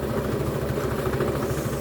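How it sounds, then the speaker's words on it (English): A sewing machine stitching the seam of a bag lining, running steadily with a fast, even mechanical whir and rhythmic needle chatter, close and fairly loud with no talk. "So we're going to sew down that remaining"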